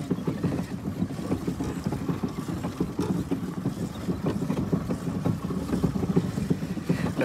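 A motorboat engine drones steadily throughout a ride on the water at Hatta, Dubai, with hull slaps and wind buffeting the microphone.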